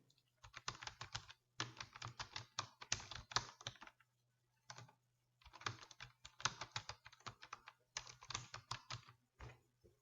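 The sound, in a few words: typing on a computer keyboard into an MS Word header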